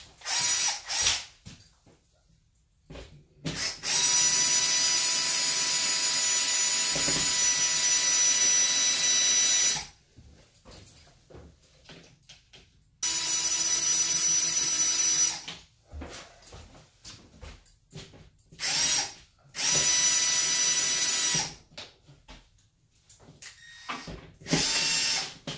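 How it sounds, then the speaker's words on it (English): A handheld power drill driving toggle bolts runs in several long loud bursts, whining steadily for a few seconds each, separated by pauses and short clicks and handling noise. "Now I'm going to go ahead and take my drill."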